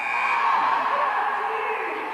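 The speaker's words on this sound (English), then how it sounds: "And the crowd's really into it." A basketball crowd at a 1985 game cheers and screams, a dense continuous roar of many voices at a steady, fairly loud level throughout.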